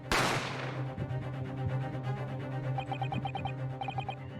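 A single sharp gunshot in The Great Ace Attorney cracks out at the start and fades into a lingering ring. Soft game music follows, with short bursts of text-blip beeps near the end.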